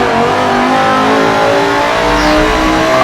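A V10 truck engine revs hard at a race start in the Forza racing game, a loud, close and continuous roar that climbs in pitch, with no talking.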